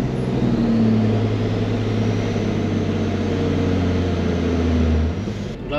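A turbocharged BMW E46 engine pulls under full load in fifth gear, a loud steady droning tone holding for about five seconds before dropping off as the throttle eases.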